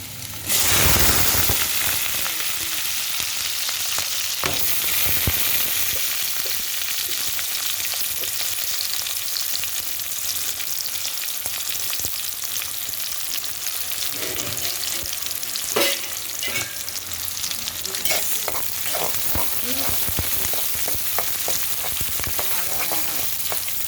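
Chopped onion frying with urad dal and mustard seeds in hot oil, a dense continuous sizzle and crackle with occasional stirring scrapes, close and steady without talk.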